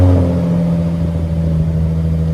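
Jaguar F-Pace with a 3.0L supercharged V6 runs with a steady, deep exhaust drone close by, a continuous low rumble with no clear revs, nothing else heard.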